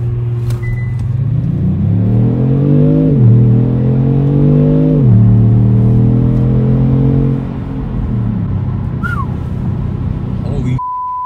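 A Kia Stinger launches hard with launch control, its engine roaring up through rising revs with audible gear changes, loud and close from inside the cabin, then settling into a steady drone before a chime.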